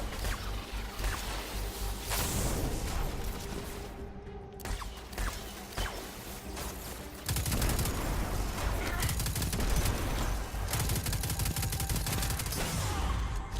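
Rapid gunfire from a sniper rifle in the video game Destiny 2 crackles in dense, sustained bursts with a brief lull partway, then grows louder and harsher toward the end.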